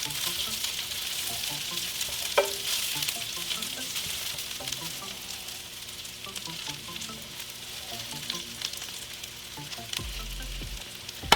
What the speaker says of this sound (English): I'm gonna go ahead and toss in all of my garlic and stir it up